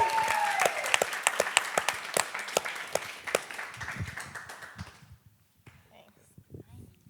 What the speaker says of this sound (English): please give our greatest round of applause possible